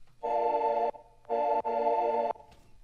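Detuned sine wave synth played dry without OTT compression, two sustained tones with a short break between them, the second held longer, clean and alone at moderate level.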